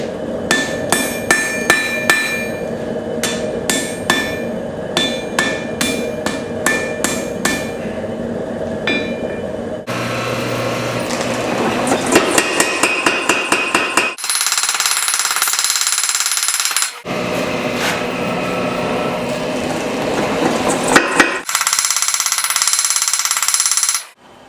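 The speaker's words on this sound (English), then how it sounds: "now it's time to forge weld" Hammer blows ring out as a railroad spike is forge welded into a knife, first in a quick rhythmic series of sharp metallic strikes, then giving way to long loud roaring bursts like a forge blower or grinder, close and without talk.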